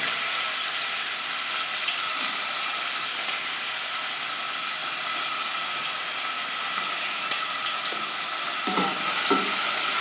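Onions fry in a pan with a loud, bright, unbroken sizzle, and a couple of faint stirring knocks come near the end.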